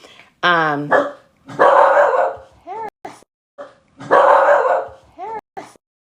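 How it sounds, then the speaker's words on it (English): A dog barks several times in short bursts with a few yips in between, close by and fairly loud. "he barks at our neighbors every day"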